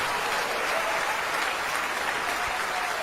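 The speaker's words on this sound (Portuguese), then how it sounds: "vamos aplaudir mais, igreja." Sustained applause from a church congregation in worship, many hands clapping in an even, unbroken roar that fills the room without any talking on top.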